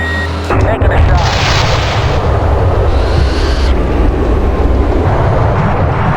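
A bomb explosion in the Fighters Anthology flight combat game, heard as a sudden loud blast followed by a sustained heavy rumble that fills the whole clip.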